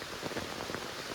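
Heavy rain pours down outdoors in a thick, continuous patter of drops hitting surfaces, close and steady over the brief moment.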